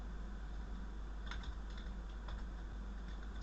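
Quick, light keystrokes on a computer keyboard as a chat command is entered for a Minecraft block-based programming lesson, a short run of soft clicks over a faint steady hum.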